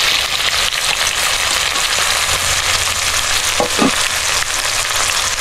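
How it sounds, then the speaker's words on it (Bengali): Whole garam masala, dried chilli, bay leaf and chopped onion sizzle steadily in hot oil, a loud, continuous frying hiss with a couple of faint clinks near the end and no talking. "এবার আমি ফোড়ন দিয়ে দেবো গোটা গরম মশলা, শুকনো লঙ্কা, তেজপাতা আর কিছুটা কুচানো পেঁয়াজ দিয়ে দেবো তেলে"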